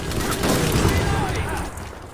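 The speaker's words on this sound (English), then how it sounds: "This game shoots really well. Gunfire sounds incredible." Rapid gunfire and bursts rattle through a Battlefield 5 firefight, a dense, loud volley of shots with booms mixed in, continuous over a noisy battle backdrop with faint voices.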